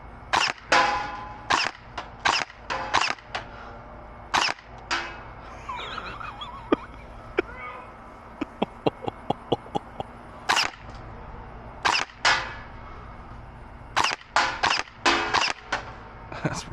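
A Zius BK1S foam dart blaster fires a dozen rounds, each a sharp, loud crack, some in quick clusters and others spaced apart, with faint clicks and quiet handling noises in between.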